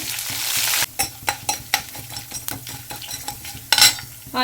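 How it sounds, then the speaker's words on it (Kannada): Chana dal and urad dal frying in hot oil with popping mustard seeds, a soft sizzle broken by sharp, irregular clicks of a spoon or spatula against the pan. "ಕಡಲೆಬೇಳೆ ಬೇಳೆ ಗೋಲ್ಡನ್ ಫ್ರೈ ಆಗಿದೆ"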